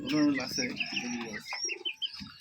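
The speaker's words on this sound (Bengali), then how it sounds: "কিন্তু গিরিবাজ কবুতর এই দুইটা" Giribaj pigeons at a pigeon farm in Rajshahi give soft, low cooing calls near the end, after voices talk over the opening.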